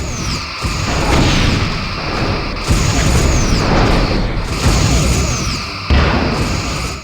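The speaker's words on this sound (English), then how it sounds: "Photon torpedoes, Captain." Photon torpedoes launching in the Star Trek: Bridge Commander game, a series of loud booming blasts in several surges with sweeping tones above, dense and sustained with no pauses between volleys.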